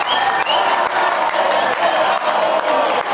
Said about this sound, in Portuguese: as pessoas aplaudindo, batendo panela